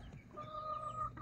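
Shamo chicken clucking in a backyard, a short, faint, tonal cluck heard alone.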